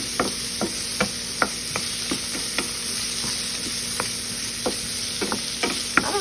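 A harvest skillet meal sizzling steadily in a pan as it begins to cook, a constant hiss broken by sharp scraping stirs at irregular intervals, close and moderately quiet with no talking.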